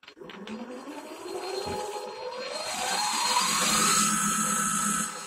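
An electronic lathe motor spins up to full speed, a whining tone rising steadily in pitch and loudness before holding at a high, close hum.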